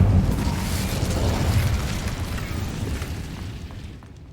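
An Incendio fire spell cast in Hogwarts Legacy: a loud, dense whooshing roar of flame that holds strongly for about four seconds before tapering off, with no voices over it.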